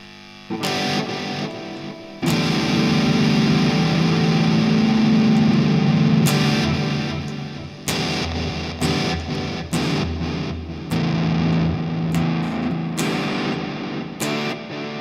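A heavily distorted electric guitar plays through a LEKATO PA1 pocket amp with no cab simulation, chords and sustained notes, loud and gritty, with short pauses between phrases.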